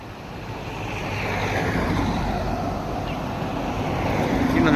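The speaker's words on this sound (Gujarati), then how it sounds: "વરસાદ ચાલુ થઈ ગયો" Light drizzle falling over a village farm field, a continuous close hiss that swells gradually, mixed with gusty wind rumble and no voices.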